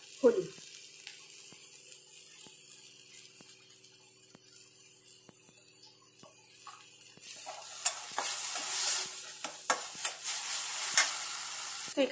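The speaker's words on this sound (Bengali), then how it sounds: "মশলাটা দিয়ে আমি ভালো করে একটু এটা ভেজে নেব, যাতে মশলার কাঁচা গন্ধটা চলে যায়।" Spice paste with salt and turmeric fries in a pan. There is a soft crackle and faint ticking at first, then a louder, denser sizzle with stirring scrapes over the last few seconds.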